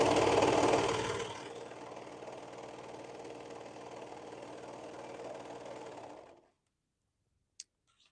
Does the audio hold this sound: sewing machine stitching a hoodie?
yes